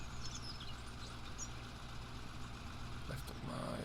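A tractor engine in Farming Simulator 17 runs steadily with a low, continuous drone and a faint chirp on top.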